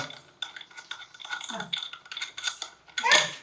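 Small metal screws for an office chair's backrest clink and rattle as they are handled during assembly, a busy run of close, bright jingles with a sharper clatter near the end.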